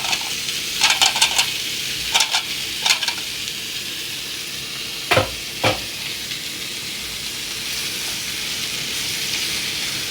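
Vegetables stirred into hot masala for a vegetable kurma sizzle steadily in the pan, with several sharp scraping strokes of a spoon against the vessel spread across the span, no voices present.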